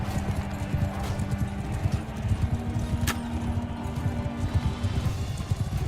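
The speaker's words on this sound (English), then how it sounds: "A lot of horses. There's idle horses roaming around here." Many horses clip-clop at a steady gallop in Bannerlord, the dense hoofbeats running through the whole stretch with a brief whinny, loud and close over a busy in-game backdrop.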